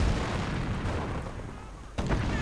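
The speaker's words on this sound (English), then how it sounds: "And I believe we're hearing artillery somewhere." Artillery fire in a wartime strategy video game sounds as a rumbling barrage that fades slightly, then a sharp new blast near the end, loud and close with heavy low booms.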